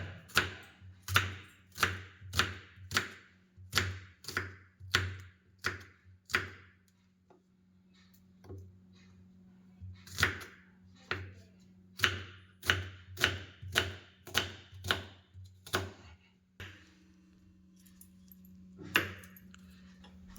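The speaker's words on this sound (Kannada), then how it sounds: "ಆಮೇಲೆ ಎರಡು ದೊಡ್ಡ ಸೈಜ್ ಈರುಳ್ಳಿ ಕಟ್ ಮಾಡ್ಕೋಬೇಕಾಗತ್ತೆ" Two large onions being chopped on a board with a knife, making crisp, evenly spaced knocks in quick bursts with short pauses between runs, close and clear with no talking.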